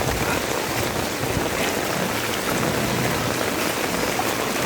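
Heavy rain pours down on a village street in Kadapa, a dense, steady hiss of close downpour with no pauses and no voices.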